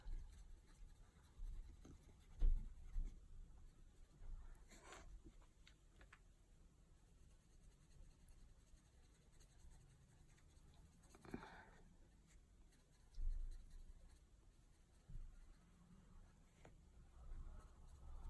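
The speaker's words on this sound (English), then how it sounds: "You could just do it with your yellow pencil or your golden rod pencil." Coloured pencil strokes scratch softly across paper as a fantasy art drawing is worked, a faint, irregular patter of rubbing and tapping close up, with no talk.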